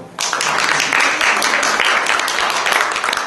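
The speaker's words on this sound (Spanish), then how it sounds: "Un aplauso, por favor." A burst of clapping starts abruptly and continues steadily for a few seconds, a fairly loud round of applause from a small group at a panel at the FILSA 2013 book fair.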